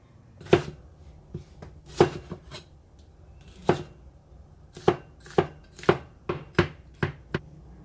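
Cucumber being chopped into small pieces with a knife on a cutting board, a series of crisp, close knocks in irregular clusters with short pauses between, no talking.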